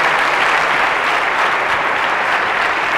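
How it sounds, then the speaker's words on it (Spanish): A large audience gives loud, dense applause at the close of a security conference talk on ATM security, a steady wash of many hands clapping with no voices on top. "Pues un fortísimo aplauso"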